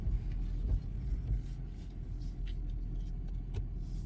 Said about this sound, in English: The bus.